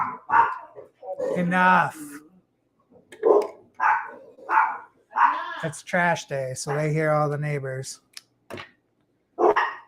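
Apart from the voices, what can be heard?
dog barking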